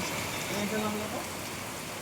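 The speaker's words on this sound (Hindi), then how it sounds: "और बारिश हो रही है।" Heavy monsoon rain pours steadily near a fort on a Goa roadside, a loud, dense hiss of drops with a brief voice murmuring beneath it.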